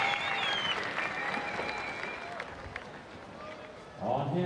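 Spectators at a BMX racing world championship finals clap and cheer in a steady wash of applause, with an announcer talking over the crowd and a burst of louder cheering at the end.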